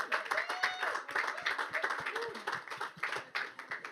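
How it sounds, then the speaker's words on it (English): An audience at the Women's Sports House during Cannes Lions claps steadily in a dense, moderately quiet round of applause, with voices talking over it throughout. "Can we just get a round of applause for them being here?"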